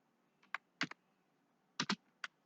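Keys on a computer keyboard tap out a few quiet, close clicks in two short bursts, with small gaps between the strokes.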